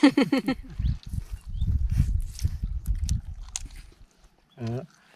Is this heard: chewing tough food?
yes